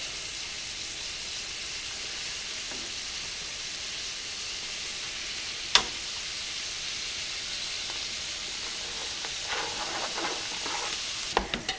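Ground beef and onion brown in a skillet with a steady close sizzle and hiss, broken by one sharp clack and a few stirring scrapes near the end.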